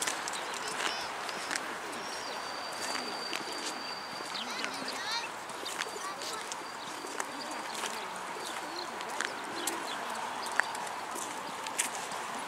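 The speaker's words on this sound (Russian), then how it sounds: "Птичка." Birds call faintly in a snowy city square park in winter, scattered chirps and cooing over soft outdoor ambience while people talk nearby.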